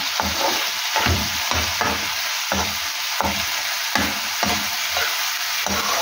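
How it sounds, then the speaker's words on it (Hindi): Mutton heart mixed with a spoonful of yogurt sizzles loudly in a pan while being stirred, with repeated scraping strokes of the spoon over the continuous frying hiss. "इसको अच्छा सा हमने भूनना है"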